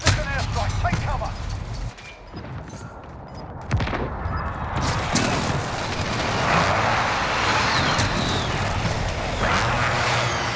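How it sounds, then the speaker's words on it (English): In a video game, explosions from an airstrike and gunfire come as loud, dense, continuous booms and crackling bursts that fill the whole span, with a brief lull near the start. "We're taking an airstrike. Take cover."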